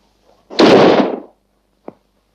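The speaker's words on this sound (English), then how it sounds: "We shall keep on firing until you tell me what I want to know" A volley of gunfire from a firing squad in a 1949 comedy film bursts out as one loud, broad blast, followed by a single short, sharp report.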